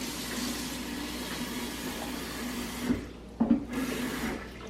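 Water pours from a tap into a container while a smoothie is made, a steady rushing stream close by with a short break and a few bumps near the end.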